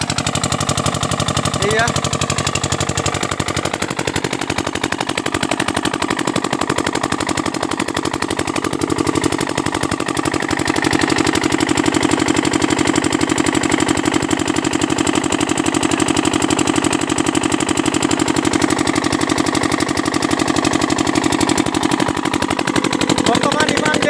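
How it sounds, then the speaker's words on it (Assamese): An engine-driven water pump runs loudly and continuously after starting, a steady rough mechanical chugging pulling water, with a brief voice heard over the drone. "ষ্টাৰ্ট হৈছে, এতিয়া পানী গৈছে নে নাই এইটোহে ডাঙৰ কথা।"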